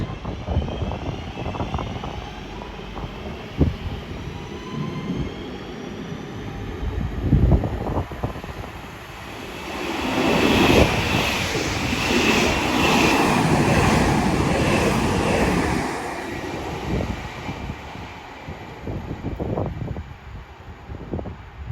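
A class 331 passenger train passes at speed on its way to Liverpool Lime Street, a broad rushing roar that swells to a peak midway and fades away, mixed with gusty wind buffeting the microphone.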